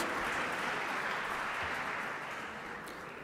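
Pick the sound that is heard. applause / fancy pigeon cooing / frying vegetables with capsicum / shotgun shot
applause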